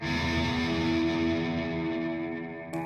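An electric guitar runs through a Walrus Audio Melee pedal with reverb feeding into drive fuzz, a single loud distorted chord ringing out and slowly fading before a faint final click.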